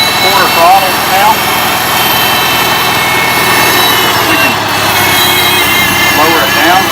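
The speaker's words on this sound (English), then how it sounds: "The tractor runs strong, with zero smoke. Runs really smooth. It's at about quarter throttle now." Engine of a restored 1975 International Farmall Cub tractor running steadily at about quarter throttle, a loud, close, continuous drone with a smooth even tone, and a voice talking over it.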